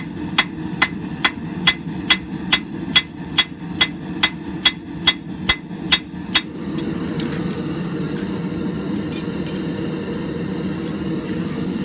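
A hammer forges the bevels of a camp knife blade, landing about fourteen sharp, evenly spaced strikes before stopping. A steady roar like a forge blower carries on underneath and continues alone afterward.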